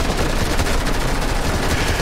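Dense, continuous rapid gunfire from a Fortnite match, loud and close, with overlapping automatic bursts forming an unbroken volley and no talk over it.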